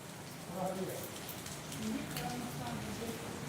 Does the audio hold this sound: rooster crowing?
no